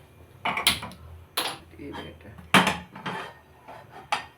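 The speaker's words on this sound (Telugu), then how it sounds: "ఇప్పుడు స్టవ్ వెలిగించుకుని పాన్ పెట్టుకున్నాను" A metal frying pan is set down on a lit kitchen stove, giving sharp clanks and knocks in a few separate bursts, near and fairly loud, with a voice talking in between.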